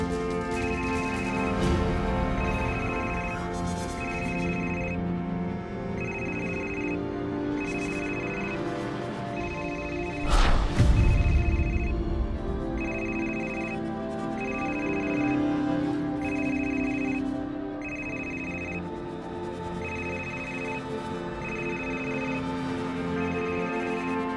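An old telephone with no cord attached rings in a repeating pattern of regular bursts, steady and clear throughout, with a brief louder thump partway through and no talk.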